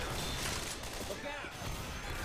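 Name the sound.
gunfire in video game Left 4 Dead 2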